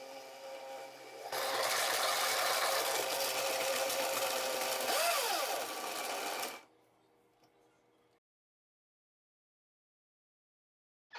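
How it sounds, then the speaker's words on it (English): A blender partly chops almonds into a broccoli smoothie in one loud, steady whirring run of about five seconds, close by. The motor then cuts off and winds down into near silence. "Now I'm going to add the almonds, but I'm not going to completely blend them or grind them up."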